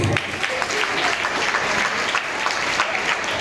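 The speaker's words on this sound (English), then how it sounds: "Requesting all to clap your hands." An audience at a district science exhibition claps together, a continuous loud patter of many hands filling the whole stretch with a faint crowd murmur beneath.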